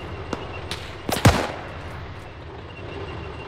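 A Maxim machine gun fires during a WW2 co-op shooter battle, sounding as scattered distant pops followed by a louder cluster of sharp reports, set against steady low battlefield ambience.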